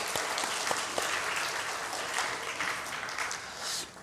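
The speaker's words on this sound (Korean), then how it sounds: "서로에게 박수하겠습니다" A church congregation claps for each other in steady, dense applause that fills the room evenly throughout and fades slightly at the end.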